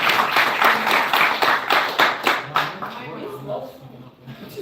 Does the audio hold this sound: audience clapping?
yes